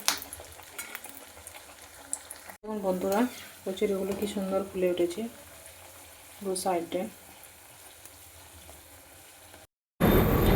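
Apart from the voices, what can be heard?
cauliflower kachori deep frying in oil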